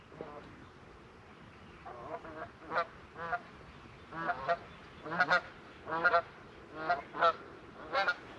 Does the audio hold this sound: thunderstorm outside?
no